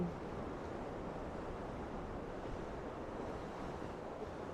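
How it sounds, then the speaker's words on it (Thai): Sea waves along the coast in Busan, a soft, steady wash of surf with faint wind noise throughout and no voices. "ดูทะเลค่ะ"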